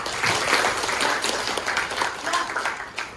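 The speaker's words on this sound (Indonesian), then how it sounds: "Beri aplaus untuk Naila" Applause from a classroom of students for a classmate, a dense burst of many hands clapping that carries on steadily and then tapers off a little toward the end.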